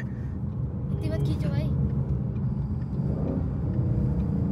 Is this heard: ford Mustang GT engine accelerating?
yes